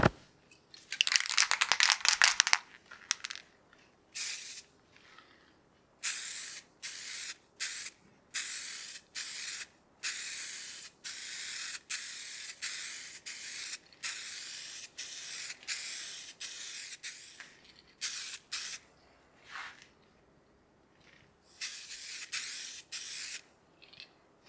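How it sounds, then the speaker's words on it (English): A spray can lays a finish coat on a turned wooden baseball bat mounted on a lathe: a series of close, hissing bursts, some short and some several seconds long, separated by brief pauses as the workpiece is rotated. "So we'll spray this, rotate the hand wheel, and just continue spraying."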